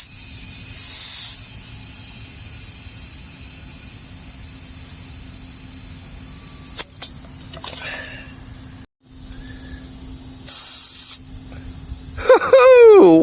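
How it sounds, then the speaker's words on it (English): An air compressor pumps up a motorcycle tire for its first spring ride, giving a steady, close hiss that runs for several seconds with brief breaks and ends in a rising squeal. "Let's get the air compressor out and fill that up a little bit."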